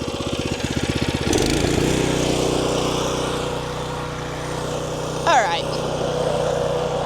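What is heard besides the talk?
new rear-tine tiller engine running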